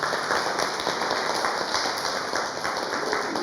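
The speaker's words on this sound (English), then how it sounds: "A big round of applause to them" An art-talk audience applauds the team with a steady, dense patter of many hands clapping together, fairly loud and sustained from start to finish with no talking over it.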